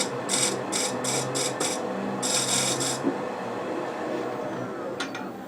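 Short rasping strokes of a hand tool cutting a small chamfer on a cherry burl box scrape against the wood in a quick series, then one longer stroke, close and fairly loud.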